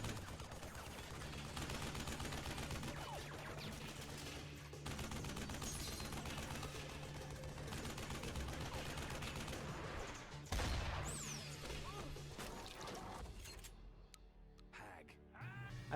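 Gunfire rings out in a scene from the film Hot Fuzz, a busy mix of shots and loud action sound that stays dense for most of the stretch before thinning out toward the end.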